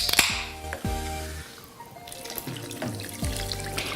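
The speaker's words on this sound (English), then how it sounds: "we're gonna go ahead and add 2 cans of coconut soda" Coconut soda is poured from two cans over pork in a pot, a close gurgling and glugging pour with bubbly splashes in several bursts.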